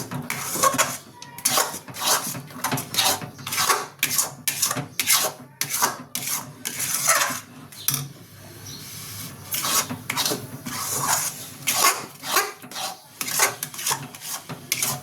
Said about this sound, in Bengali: এটা কন্টিনিউ নাড়তে থাকবেন, নাহলে নিচে হয়ে যাবে।